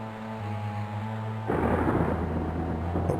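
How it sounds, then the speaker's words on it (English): Magical thunderstorm from the 1990 game King's Quest V, conjured by a wizard over Castle Daventry: low synthesized music gives way midway to a loud, sustained crackling rumble of storm noise with no voices. "A wizard conjuring a storm over Castle Daventry."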